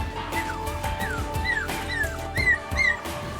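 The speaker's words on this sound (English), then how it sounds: "He found the dog roaming around last night, so he just popped it in his car." A stray dog found roaming the streets at night whimpers in a series of thin, rising whines and soft yips, fairly close, over steady low background noise.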